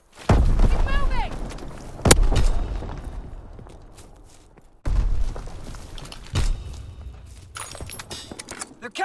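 Grenade blasts in Call of Duty: WWII multiplayer on the Shipment 1944 map land as loud, close booms with sharp cracks, several seconds apart, over gunfire and shouted voices.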